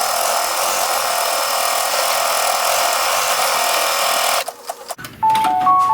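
Embroidery machine stitching the tack-down on a butterfly cinch sack: a steady, loud, rapid mechanical whir for about four seconds that stops abruptly, followed by a few faint clicks and a short electronic beep tone.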